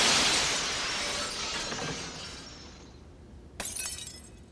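A large plate glass window shatters with a loud, bright crash, then shards rain down and tinkle away, followed by one more sharp tinkling fall of glass near the end.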